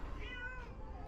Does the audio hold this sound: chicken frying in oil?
no